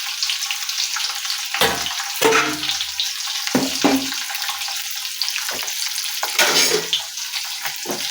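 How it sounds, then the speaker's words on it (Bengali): Eggs frying in a pan give a steady broadband sizzle for the whole stretch, broken by a few louder stirring or scraping bursts and a faint splash of water; no one speaks. "এটা দিয়ে এদিকে ডিমটাকে ভাজতে দিয়েছিলাম, ডিমটাও হয়ে গেছে।"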